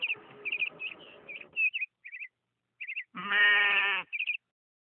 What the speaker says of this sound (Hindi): मैंने आपके नाम पर ये बकरी जीती है महाराज।